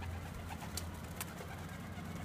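Pigeons at a backyard pigeon loft coo in low, throaty, overlapping notes that run steadily through the clip, with a couple of brief higher chirps and no talking.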